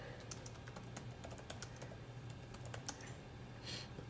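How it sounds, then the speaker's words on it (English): Typing on a computer keyboard, a quiet, close run of irregular key clicks in quick succession with a low background hum and no talk. "Maybe I'll stop talking and type."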